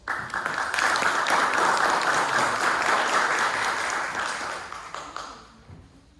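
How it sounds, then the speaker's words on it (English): A Toastmasters club audience in Brasília gives a burst of applause as an evaluator is introduced, dense clapping that swells quickly, holds for about four seconds, then thins out and fades near the end. "I invite Mr. Luis Freire. Solid applause"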